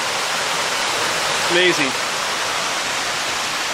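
Steady broadband rush of a stream flowing beside a forest trail near Cottonwood Falls in Worlds End State Park, Pennsylvania, constant and close throughout, with a brief spoken remark over it partway through.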